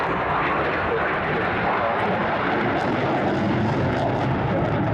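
Eurofighter Typhoon jet passing at the Swansea airshow in 2023, a steady, loud, broad roar of jet engine that holds for the whole stretch without break.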